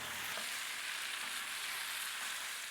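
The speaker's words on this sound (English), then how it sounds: "Oh, listen to that sizzle, if you can hear it." Hot pan frying a T-bone steak gives off a constant, close sizzle, a broad hissing crackle that stays level and uninterrupted.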